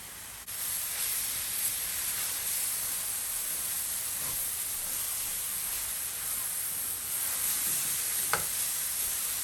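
Vegan mock mince with tomatoes fries on high heat, giving a continuous loud sizzling hiss with faint scrapes and a sharp clack of stirring, close up and steady throughout.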